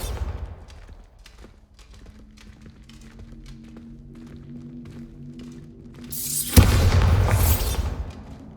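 A Bombarda spell in Hogwarts Legacy goes off as a sudden loud blast that erupts after a quieter stretch of footsteps and low hum, then roars and crackles for about two seconds before fading.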